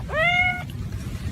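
A cat gives a single clear, drawn-out meow close by, followed by quiet room noise.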